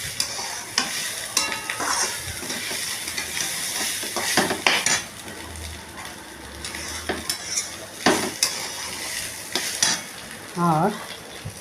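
Cloves sizzle in hot oil under a steady crackling hiss, with close metallic scrapes and clinks of a utensil stirring in the pan, plus a few louder knocks scattered throughout.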